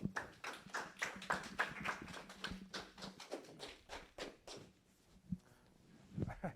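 An audience at a business talk on exit strategy claps for a speaker. The applause is faint and scattered, with individual claps dense at first and thinning out toward the end.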